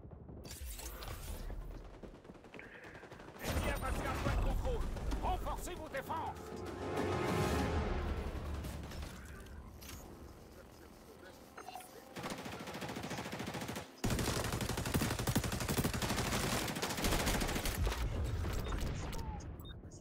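Bursts of automatic gunfire in the online shooter XDefiant rattle in several loud stretches separated by short pauses, while a player speaks French over the action.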